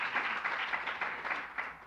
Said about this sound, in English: You guys are clapping in every paragraph,